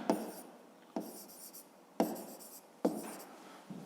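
A pen or pencil writing on paper while working a fifth-grade maths exercise, four strokes or short bursts of scratching at a steady rhythm, close and clear with no talk.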